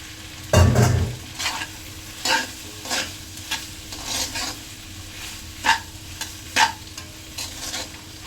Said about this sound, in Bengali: ওই কড়াইটা না খুব শব্দ হয়